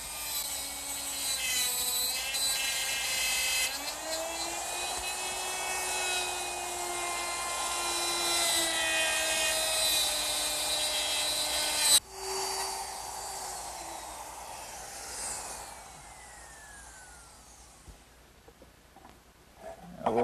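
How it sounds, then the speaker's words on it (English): A router fitted with a dovetail bit and a small collar, guided by a plastic template, cuts wooden dovetails for a writing desk. A loud, steady high motor whine with a bright cutting edge runs for about twelve seconds, then winds down. "using my router with a dovetail bit and a little collar, I'll get perfect dovetails every time"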